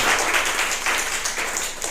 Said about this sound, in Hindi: इसके लिए आप लोग एक बार अपने लिए ताली बजाएं